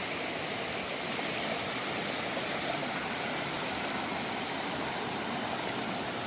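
Steady broadband rushing of a river far below after 3 to 5 inches of rain, continuous and even throughout, sounding somewhat distant with no other clear sounds.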